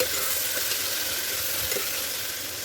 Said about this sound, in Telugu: ఇప్పుడు ఈ అల్లం పేస్ట్ కూడా వేసుకొని పచ్చివాసన పోయే వరకు అయితే బాగా ఫ్రై చేసుకోవాలి